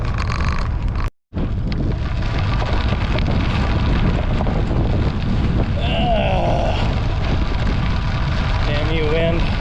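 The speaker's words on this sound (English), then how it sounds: "there is a very heavy south wind" Heavy south wind buffets the microphone on a bikepacking ride, a loud constant roar and rumble with a brief cutout, while a voice talks over it.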